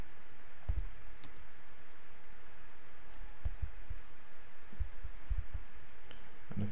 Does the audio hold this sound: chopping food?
no